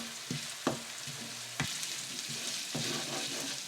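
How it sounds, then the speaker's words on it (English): Pureed onions sautéing in oil in a pan give a steady, close sizzle, with a few sharp spoon scrapes and clicks against the pan along the way. "now we're going to saute this till the onions begin to turn a little golden"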